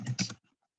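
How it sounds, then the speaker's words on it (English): Computer keyboard typing during a Zoom meeting, a quick burst of several close, fairly loud key clicks over about a third of a second, then fading to near silence. "sorry about all the typing sound"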